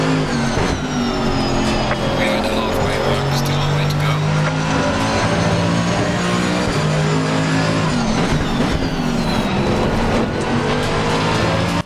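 Race cars in a racing video game, including a Lamborghini, McLaren and Porsche, roar continuously with engine revs rising and falling through slipstream and braking, steady and loud.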